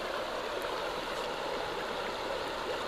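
A flowing river pours out a continuous, even rush of water, steady and fairly loud throughout, with no talking.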